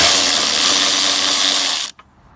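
An electric ratchet whirs loudly and steadily while undoing fender bolts on a Vortec-swapped Wrangler, holding for nearly two seconds before cutting off abruptly, close up with no talking.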